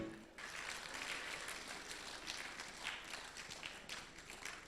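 An audience claps steadily to welcome a guest at a Bhiwani honour ceremony, a dense, even wash of applause heard from some distance after a brief opening moment.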